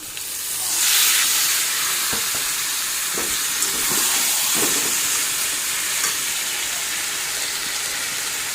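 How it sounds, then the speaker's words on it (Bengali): Boiled taro being stirred together with spices in a frying pan, a steady close sizzle with scraping spoon strokes rising briefly at the start and continuing evenly, no voices. "এখন ভালো করে মিশিয়ে নেব মশলার সঙ্গে"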